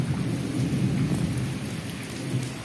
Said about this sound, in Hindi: बहुत ही ज़ोरदार बारिश